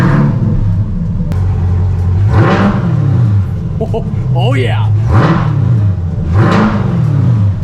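A C8 Corvette fitted with a Corsa exhaust system revs repeatedly, each loud blip rising and falling over a steady idle rumble, with someone speaking briefly between the revs.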